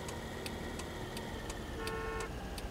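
Car horn honking in the Taxi Life city driving game, several short toots spaced out over steady traffic and engine hum, with one longer held honk near the end and no talk.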